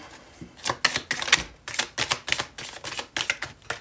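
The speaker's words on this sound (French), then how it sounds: "je vais tirer toutes les cartes avant" Tarot cards being drawn and laid down one after another, a quick run of crisp, close snapping and slapping clicks in an irregular rhythm, with no voices.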